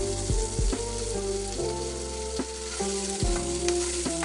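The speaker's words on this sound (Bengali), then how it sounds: "আমি এখন উল্টে আরো এক সাইড ভালোভাবে ভেজে নেব।" Fish sizzling in a frying pan with green tomato recipe cooking, a loud continuous crackle broken by several clunks and scrapes as the fish is flipped over.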